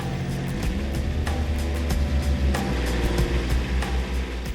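A plastering pump's motor runs steadily while pumping lime render, giving a loud, continuous droning hum with faint rhythmic ticks throughout.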